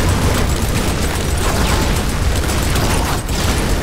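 Loud, dense blast noise from a grenade launcher in the game Lara Croft and the Guardian of Light, a continuous roaring burst of explosions with no clear gaps, heard alone.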